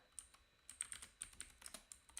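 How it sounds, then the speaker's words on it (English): Computer keyboard typing, a quick run of light clicky keystrokes close by, quiet and irregular. "Why is your keyboard so loud, bro?"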